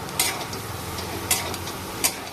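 A semolina snack mixture with chopped vegetables being stirred in a hot pan, soft frying sizzle running throughout with three sharp scrapes of the spoon against the pan, close up and without talking.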